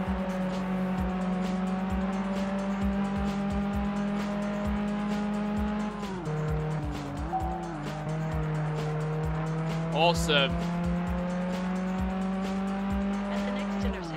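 A racing car in Test Drive Unlimited on PS2 drones steadily at high revs, shifting pitch midway and squealing its tyres briefly, with someone talking over the engine.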